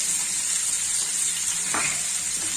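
Beans, carrot and cabbage sauté in hot oil for chicken fried rice, giving a continuous, even sizzle with a brief stirring scrape partway through.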